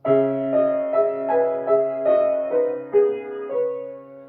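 Piano notes of a song flow smoothly into one another with the sustain pedal, a low bass note ringing under a connected melody, soft and close.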